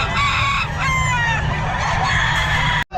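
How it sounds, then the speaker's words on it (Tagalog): Loud, continuous crowing from several roosters close by at a pet market in Bocaue, long calls overlapping one after another until a sudden cut near the end. "Ayan mga manok niya sir."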